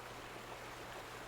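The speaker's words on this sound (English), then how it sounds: "Okay, so that's the water coming out." Water flows from a sluice in the video game The Vanishing of Ethan Carter as a faint, steady, even rushing hiss heard alone.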